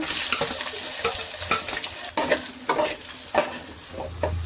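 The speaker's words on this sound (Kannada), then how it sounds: "ಈರುಳ್ಳಿ ಸ್ವಲ್ಪ ಕೆಂಪುಗಾಗೋ ತನಕ ಚೆನ್ನಾಗಿ ಫ್ರೈ ಮಾಡ್ಕೊಳ್ಳೋಣ" Onions frying in oil with fennel seeds, cumin and fenugreek leaves for a hotel-style chicken gravy, a steady close sizzle broken by repeated scraping stirs of the spoon against the pan.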